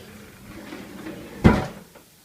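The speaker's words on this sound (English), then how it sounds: "But now he's opening both drawers," A child opens and shuts a kitchen drawer, a soft sliding rumble ending in one sharp wooden knock of the drawer closing, close by, with no talking.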